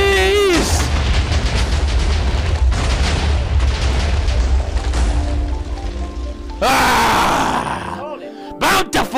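A TNT explosion in the Minecraft video game goes off as a loud, rumbling blast about two thirds of the way through, with a few sharp debris cracks after it, under excited shouting and continuous game noise.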